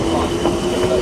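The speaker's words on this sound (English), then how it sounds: "This train is the southern service." A Southern service train at Clapham Junction in London gives a loud, steady rumble and hum, with a sustained tonal whine running through the short stretch.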